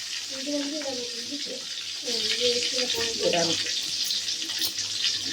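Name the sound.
onions being added to a frying pan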